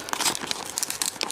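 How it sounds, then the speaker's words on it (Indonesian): Plastic wrapper of a boxed toy candy package being torn open by hand, a short run of close crinkling and ripping bursts with no talking. "Agak keras ya. Nah, kita sobek aja."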